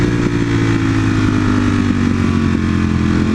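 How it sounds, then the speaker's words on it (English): Modified Ford Mustang GT V8 with an aftermarket exhaust, a loud, deep steady engine drone heard up close from inside the car, no talking. "Ah, that exhaust."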